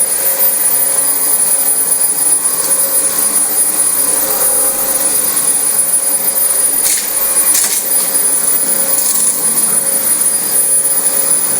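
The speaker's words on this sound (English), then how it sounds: "if you go fast, you can clog your vacuum up" A Dyson DC25 vacuum cleaner runs loud and close over a very dirty carpet, a constant roaring whine with a high steady tone that holds unbroken throughout.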